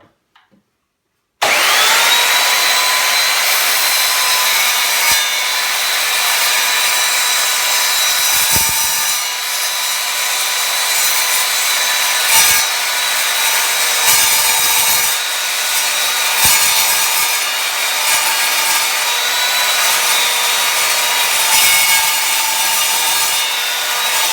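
An Evolution Rage3-S sliding compound mitre saw cuts through steel, a loud, steady, grinding whine that starts abruptly after a short silence and holds for over twenty seconds with small dips in pitch and load.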